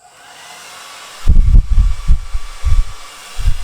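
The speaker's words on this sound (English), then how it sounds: "Now the blow dryer, I'm using the cool setting and the lowest heat setting, and I'll use the lowest fan setting as well." A blow dryer on its cool, lowest fan setting runs as a steady soft whoosh, joined by irregular low thumps and rumbles as air buffets nearby, close and fairly loud.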